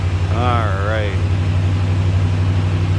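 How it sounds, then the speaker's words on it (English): 1966 Chevrolet Impala SS engine at high idle after a cold start, a steady loud low hum with a faint whine on top, while a voice talks briefly over it. "Gonna get that off high idle here in a second"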